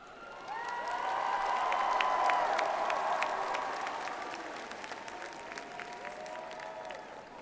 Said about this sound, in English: give a big cheer and round of applause to Mr.